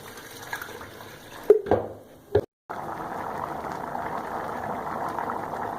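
Water pours into a cooking pot of chicken and rice set over high heat, a steady rushing wash that follows a few short clatters and knocks and then runs on evenly to the end.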